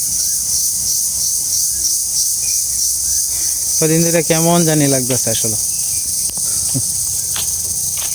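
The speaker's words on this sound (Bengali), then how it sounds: "ঝিঝি পাখি ডাকতেছে সমানে" Crickets chirp steadily and loudly behind a village house at night in a continuous high shrill, while a person speaks briefly over it.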